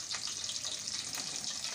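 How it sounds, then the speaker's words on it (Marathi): Dahi vada frying in oil over a low to medium flame, giving a soft, continuous bubbling sizzle that stays faint and even throughout. "हा वडा तळताना आपल्याला गॅसची फ्लेम जी आहे लो टू मीडियम ठेवायची आहे"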